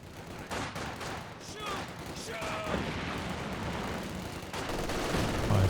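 Maxim and MG42 machine guns trade fire in a Company of Heroes 2 battle, a dense, continuous rattle of gunfire layered with distant booms and battle noise throughout.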